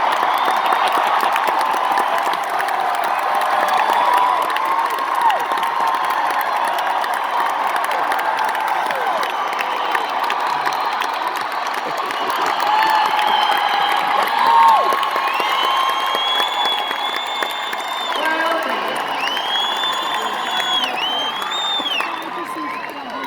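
A large audience applauds and cheers for a 73-year-old performer, dense sustained clapping with whoops and shouts rising and falling throughout, loud and close.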